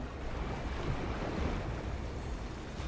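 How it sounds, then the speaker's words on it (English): Stormy ocean waves surge and wash steadily around a speedboat in the Love and Deepspace game, a dense continuous roar of water and wind with no voices. "I set up as violent waves rock the speedboat."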